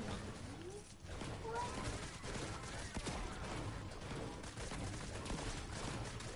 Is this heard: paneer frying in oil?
no